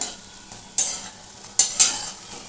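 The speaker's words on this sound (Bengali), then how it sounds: "আমি এটাকে মোচা বড়াগুলোকে ভাজছি।" Banana flower fritters frying in hot oil, a low steady sizzle broken by a few loud scraping strokes of a spatula or ladle stirring in the pan, close up.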